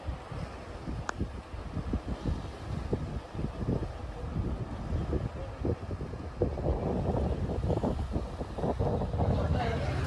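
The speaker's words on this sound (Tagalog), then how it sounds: "Pero kung maganda, mahangin, maano yung hangin, presko yung hangin." Wind buffets the microphone in steady low rumbling gusts on Tung Ping Chau during camping, with faint voices and movement underneath.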